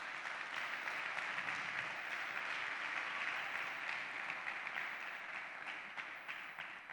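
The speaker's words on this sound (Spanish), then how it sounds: "Denle un fuerte aplauso al Señor." Congregation applauding during a Spanish-language church service, a steady, fairly distant wash of clapping hands heard alone, fading slightly at the end.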